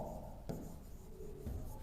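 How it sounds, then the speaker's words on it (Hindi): A marker or chalk scratches across a lecture board in short rubbing strokes, faint and close, alone without speech. "अब मैं लिख रहा हूं"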